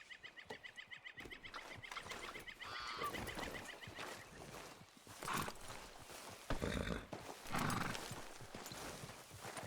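Horse whinnies and neighs alongside clip-clopping hooves in the Red Dead Redemption 2 game world, the calls rising a few times over a steady background with brief louder bursts of movement.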